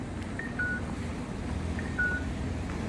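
An accessible pedestrian crossing signal near a post office gives two short electronic tonal beeps about 1.4 seconds apart, heard outdoors over steady low traffic rumble and background noise, with no talking.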